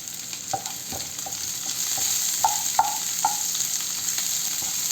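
Chopped green chilli and nigella seeds, added with garlic, sizzle in hot oil in a pan, with steady frying hiss under a scattering of spatula stirs and scrapes; no voices.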